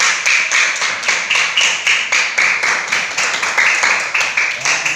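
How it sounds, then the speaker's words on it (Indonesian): A classroom of children claps in a patterned rhythm, a steady series of close, bright hand-clap bursts repeating evenly for several seconds. "Tepuk tangan lagi dulu."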